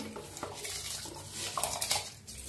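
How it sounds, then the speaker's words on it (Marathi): A spoon stirring washed rice with water, salt and bay leaf in a pressure cooker pot, giving a few close metallic clinks and scrapes against a noisy background. "थोडंसं असं चमच्याने हलवून घेऊया"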